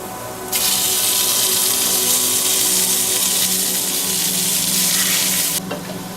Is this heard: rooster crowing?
no